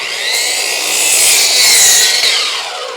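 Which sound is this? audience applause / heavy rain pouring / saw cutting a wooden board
saw cutting a wooden board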